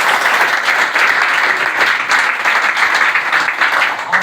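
An audience at a talk bursts into loud, sustained applause, a dense, even wash of clapping lasting about four seconds.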